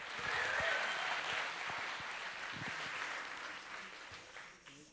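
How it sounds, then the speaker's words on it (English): Audience at the ETHGlobal Paris 2023 hackathon closing ceremony claps for a demo team, a dense, sustained round of applause that gradually tapers off near the end. "Give them a big round of applause"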